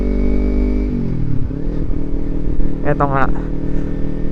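A borrowed motorcycle engine idles and rumbles close by, its pitch shifting with small revs, while someone speaks briefly over the steady drone.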